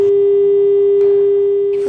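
Steady, unbroken telephone tone after a caller hangs up. It is loud and close, holding one pitch for the full two seconds, with faint clicks and line noise behind it.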